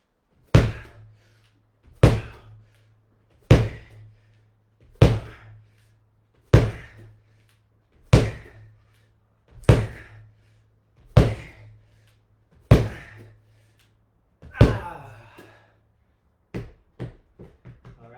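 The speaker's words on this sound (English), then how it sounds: "10 ball slams." Medicine ball slams during a workout: ten heavy, evenly spaced thuds roughly every second and a half, each with a short bounce, followed by a few quicker, lighter bounces at the end.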